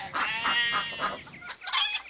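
Chickens cluck in a farmyard garden in short, close, bright bursts, several calls overlapping in quick succession with brief pauses between them, and no talk.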